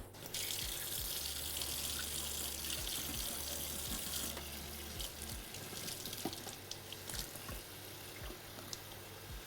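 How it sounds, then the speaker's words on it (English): Black beans rinsed in a strainer under a running kitchen tap, a steady broadband rush of water with faint clinks and drips, close and continuous throughout. "And we'll just rinse that under water"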